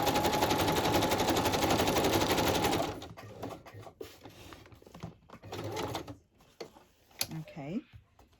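A sewing machine runs in a rapid, close buzzing burst for about three seconds and then stops, followed by scattered clicks, handling noises and rustling.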